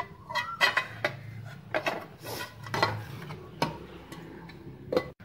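A knife trims the edges of a set bread pudding in a metal dish, giving a series of light clinks and scrapes against the pan, close and irregular, with no talking.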